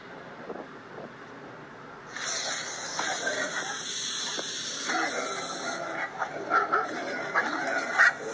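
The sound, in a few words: dogs barking at a snake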